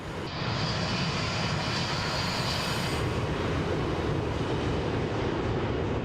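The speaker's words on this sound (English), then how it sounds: "Our engines are being pushed quite hard at the moment." Boeing 727-200F freighter jets roaring steadily through a climb in Microsoft Flight Simulator 2024, a loud continuous broadband engine rumble with a faint high whine, unbroken for several seconds.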